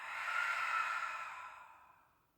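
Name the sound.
slow exhale breath during yoga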